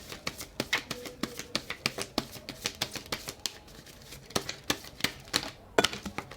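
Tarot cards being shuffled by hand, a quick run of crisp riffling slaps and flutters repeating at an irregular rhythm, close and fairly quiet, with no voices.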